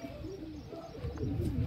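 A hungry, nervous pigeon coos in a low, soft, repeated rhythm, near and steady, with a low background rumble and no talking.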